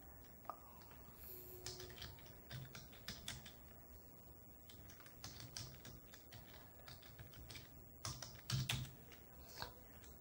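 Quiet, close typing on a computer keyboard while writing in MS Word, irregular clusters of light key taps with brief pauses across the stretch, no voices over it.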